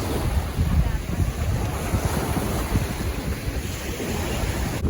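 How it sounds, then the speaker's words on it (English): Choppy Caribbean ocean waves wash and slap at Castaway Cay under heavy wind buffeting the microphone, forming a continuous rough rumble. "it looks like we have, again, choppy waves"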